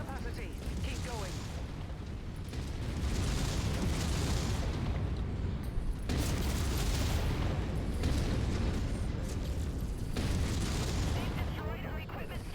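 Heavy in-game explosions wreck an equipment storage area in a mech combat game, booming blasts and rumbling bursts rolling almost continuously, loud and dense.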